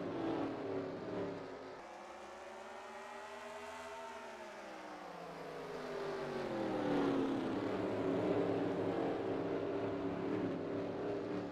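Stock cars race at Martinsville, Virginia in a racing video game, a pack of engines droning and rising in pitch together, starting moderate and swelling louder with overlapping whining tones.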